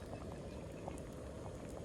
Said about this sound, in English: I got some spuds in there, some taters. We're boiling them